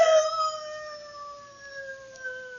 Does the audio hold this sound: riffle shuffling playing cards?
no